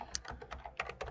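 Quick clicking keystrokes on a computer keyboard as a short command is typed and Enter is pressed in CAD software, about eight quiet, close, crisp taps in about a second.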